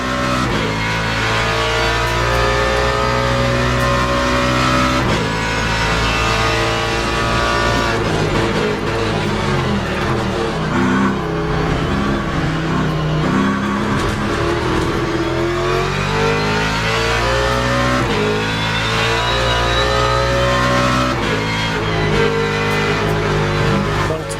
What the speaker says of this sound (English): We have to have good loud engine sounds.